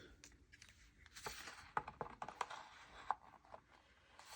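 A craft punch is pressed through paper to cut out a typewriter shape, giving several faint, sharp clicks and snaps against a quiet indoor background.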